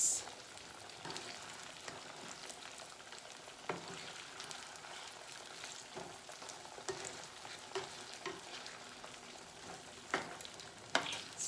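Shrimp fry softly in olive oil and garlic, giving a quiet continuous sizzle with occasional light clicks and taps of a utensil against the pan.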